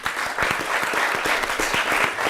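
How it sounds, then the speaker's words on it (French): An audience applauds at a televised celebrity event, with dense, steady clapping from many hands all the way through. "On les applaudit."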